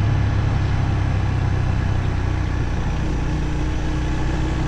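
A Honda CB350 RS motorcycle engine hums steadily in a low, continuous drone as the bike cruises along, with constant wind and road noise around it.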